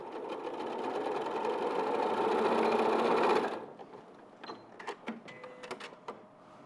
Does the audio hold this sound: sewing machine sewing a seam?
yes